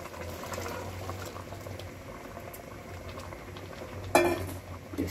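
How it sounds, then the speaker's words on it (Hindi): Boiled milk going into bottle gourd halwa in a pan, making a steady close bubbling, sizzling wash with a sharper, louder splash of liquid near the end; no talking. "ये 1/2 लीटर पूरा दूध मैं इसमें ऐड करूंगी।"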